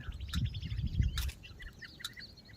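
Small birds, sparrows among them, gather at a feeding spot scattered with grain and fodder near a roadside field, giving repeated bright chirps and tweets over a low rumbling background, busiest in the first half.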